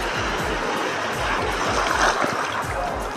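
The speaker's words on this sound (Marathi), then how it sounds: "भरपूर लाटा आहेत हे बघा" Sea waves break and wash along a Konkan shore during traditional bamboo-stake pera fishing, a loud, continuous rushing surf with rolling low rumbles, close by and unbroken by talk.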